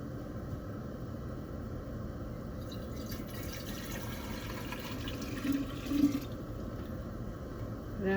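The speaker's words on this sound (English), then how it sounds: "I'm going to add the water, and we need 10 cups of water." Water being poured into a sanitized container while mixing a batch of juniper wine, a steady soft splashing stream running throughout at moderate level with slight swells near the end.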